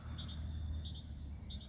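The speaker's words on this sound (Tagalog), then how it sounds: "Amazing yung huni ng ibon." A small bird sings high, thin chirping phrases repeated several times over a low, steady background rumble; faint and somewhat distant.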